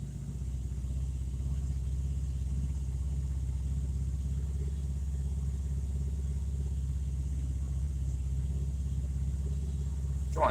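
Car engine idling steadily at 2000 RPM on a test for dampers, a low, even rumble with no voices.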